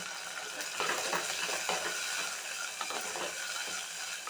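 Onions and tomatoes sauté in a clay pot for a village-style carp fish curry, giving a steady sizzle with repeated scraping and clinking stir strokes at close range and no talking.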